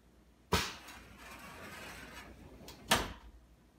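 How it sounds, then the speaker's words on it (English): An automated sliding glass door thumps open, runs with a soft rolling rumble, then knocks shut about two seconds later; two distinct close impacts bracket the movement, with no speech. "which will automatically open, wait a period of time, and then close the door"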